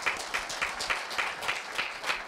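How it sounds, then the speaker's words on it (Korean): A modest audience at a middle school students' speaking festival gives a round of applause, rhythmic pulsing claps falling into a loose, regular beat, moderately faint and somewhat distant. "힘찬 박수 부탁드립니다"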